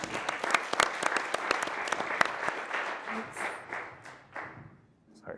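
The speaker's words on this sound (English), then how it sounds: "Round of applause for me" Audience applause at a real-estate agent panel, a dense burst of clapping that thins out and fades toward the end, with scattered voices mixed in.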